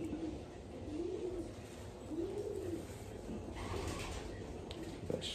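Racing pigeons in a loft give soft, rolling coos close by, repeating in a slow rhythm over a low ambient hum, with a few light scrapes and flutters toward the end.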